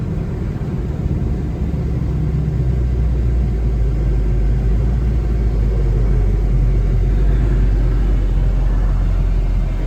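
A 1972 Chevrolet El Camino's engine rumbles low and steady from inside the cab while driving, with road noise and a constant loud drone and no voices.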